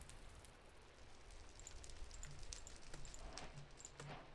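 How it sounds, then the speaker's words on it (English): Steady rain falls in a video game, a soft even hiss holding at low level throughout, with a few faint tonal in-game sounds and clicks dotted over it and no talking. "Am I hearing rain? It is raining."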